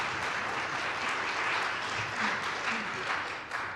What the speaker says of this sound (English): why don't you lead us in clapping?